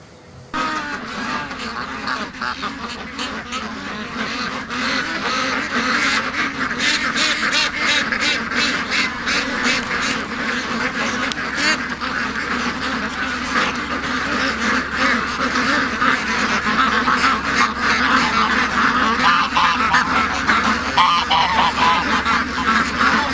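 Ducks at a creek quack and honk in a lively, continuous chorus, close and fairly loud, with overlapping calls filling the scene.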